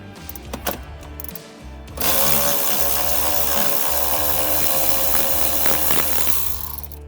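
An impact driver or drill unscrews fasteners from an underseat storage box on a Polaris Ranger XD1500 utility vehicle, starting after a short lead-in with a loud, steady whirring buzz that runs close up for about five seconds, then trails off.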